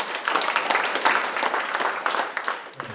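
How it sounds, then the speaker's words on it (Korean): Audience applause welcomes an incoming Rotary Club president to the stage at a district training seminar, a dense, steady wash of many hands clapping that carries on throughout and fades slightly at the end. "큰 박수로 맞아주십시오"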